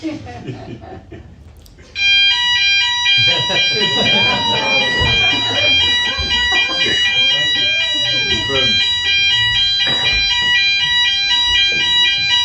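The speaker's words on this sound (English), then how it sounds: "Is it a burglar alarm?" A loud, steady electronic alarm starts abruptly and keeps sounding continuously in piercing tones, while people talk underneath it.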